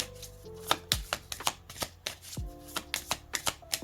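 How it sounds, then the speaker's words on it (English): A deck of Alice in Wonderland tarot cards being shuffled by hand, heard as a close series of sharp riffling snaps and soft card slaps in an uneven rhythm, with no one speaking. "You hear me shuffling."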